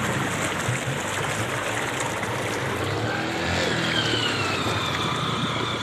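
The Muse river in Ilam rushes past during a difficult crossing, a dense steady roar of flowing water close by, with a faint engine hum mixed in and no talking.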